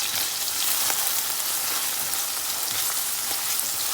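Chopped onion and carrot fry in hot oil for veggie noodles, making a loud, dense sizzle with scattered crackles that runs steadily throughout, with no talking.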